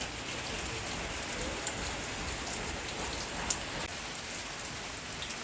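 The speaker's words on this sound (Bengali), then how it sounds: "এত জোরে বৃষ্টি পড়ছে এখানে" Heavy rain pours steadily outdoors during a Basanti Durga Puja outing, a dense continuous hiss of drops striking surfaces with no voices, holding an even, close wash throughout.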